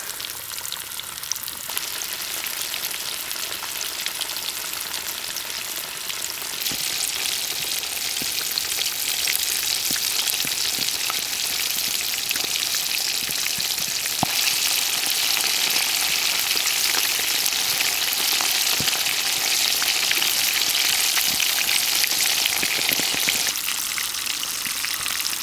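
Food fries in hot oil with a loud, dense sizzle and crackle that runs steadily for around twenty-five seconds, swelling slightly partway through, with scattered sharper pops.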